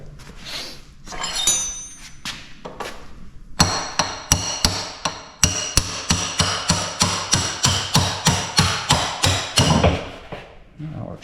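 Sharp metallic hammer strikes ring out in a steady rapid series, a dozen or more evenly spaced blows driving pins out of a buggy, close and loud, after a few scattered taps.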